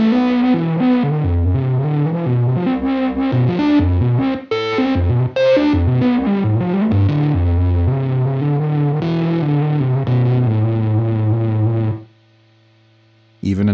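A synth played through a Universal Audio Enigmatic amp sim pedal sounds distorted and loud, then stops, leaving a steady, low, quiet amp hum droning on its own.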